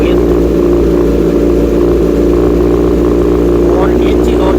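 A 2011 Kawasaki Ninja 636 sport motorcycle idling after starting, its engine a loud, close, continuous drone that holds steady throughout.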